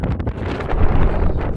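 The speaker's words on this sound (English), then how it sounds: "and of course the wind started to blow heavily" Strong wind on a Carpathian mountain ascent near Parângul Mare buffets the microphone with loud, continuous low rumbling and gusty roaring, with no pauses throughout.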